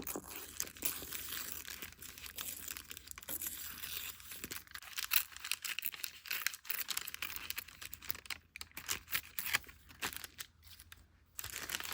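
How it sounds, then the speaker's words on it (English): Antique book paper is torn along its edge for a junk journal, giving soft, close crinkling and ripping crackles that come in scattered bursts at a low level. "maybe I can just tear the edge"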